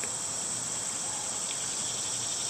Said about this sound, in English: Trilling cicadas and many other diurnal crickets took up the daytime hours.